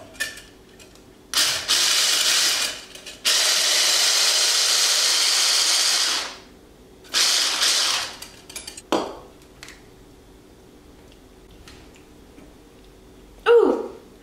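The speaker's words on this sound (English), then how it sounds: "we're just gonna whisk this until it froths up" Whipped coffee is whisked hard in a bowl in several loud, rapid bursts of about one to three seconds each, with quiet gaps between them. There is a little talk in the pauses.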